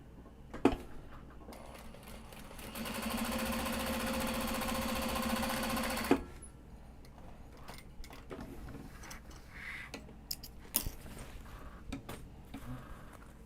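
A sewing machine stitches a pocket onto a bag during bag making, running in one loud, steady burst of a few seconds before stopping, followed by quiet handling clicks and small movements.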